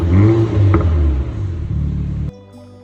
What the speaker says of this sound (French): Voici le démarrage de cette Mégane RS Ultime.